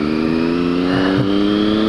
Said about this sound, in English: I am passing this truck in the parking lot.